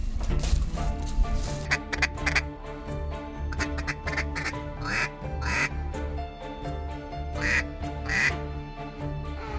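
Ducks quack repeatedly in loud, overlapping bursts on a marsh beside a Canadian national wildlife preserve at Lake St. Clair, with a steady outdoor rumble underneath and no talk.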